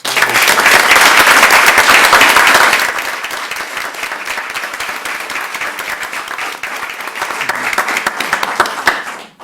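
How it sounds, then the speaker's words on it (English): A crowd at a city council meeting applauds loudly, a dense burst of clapping that eases slightly after a few seconds, then carries on steadily with some cheering swells near the end. "give him a round of applause"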